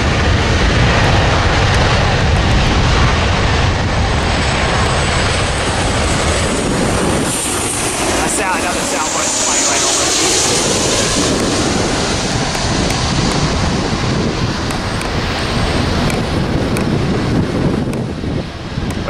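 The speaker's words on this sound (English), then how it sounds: "Until this big plane lifts off." A large passenger jet taking off at LAX, a loud, steady roar of engines with heavy wind buffeting, rising and sweeping through as the plane lifts off, continuous for the whole stretch.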